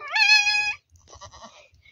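Newborn baby goats kept apart from the herd in a shady spot give one loud, close bleat, followed by faint rustling and soft movement.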